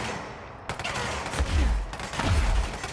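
Gunfire from enemies shooting a shield in the video game Control, rapid bursts of shots with heavy low thumps rattling through the middle, loud and dense over a brief stretch.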